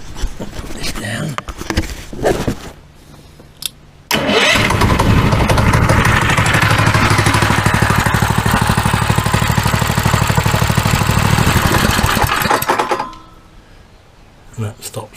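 A small cyclekart engine catches abruptly after some handling noises, then runs loud and steady at a rough idle for about nine seconds before cutting out.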